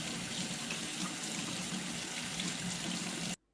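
Water runs steadily from a tap into a sink in a loud, continuous hiss and splash that cuts off sharply near the end, with no voices.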